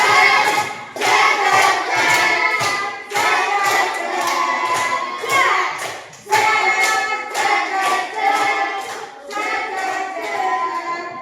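A classroom group performs a rhythmic clapping chant together, loud bursts of hand claps and voices in short repeated phrases, with brief pauses between sections.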